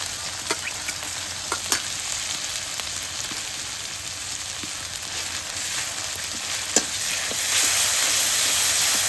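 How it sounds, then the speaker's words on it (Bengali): Chili, cumin, garlic and onion pastes fry in a hot pan, giving a continuous loud sizzle with scattered small pops and spoon scrapes, the hiss swelling slightly louder toward the end. "মরিচ বাটনা দিয়ে দিই, জিরা বাটা দেবেন, রসুন বাটা, পেঁয়াজ বাটা"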